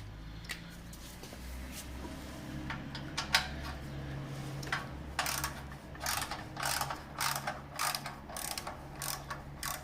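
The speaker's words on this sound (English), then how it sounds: "You're gonna use an extension again, freewheeler. If I'm not mistaken, it's 13mm socket." A ratchet with an extension and a 13mm socket turns on the exhaust of a CF Moto 300NK motorcycle, producing a run of rapid, close clicking bursts that grow more frequent and rhythmic toward the end.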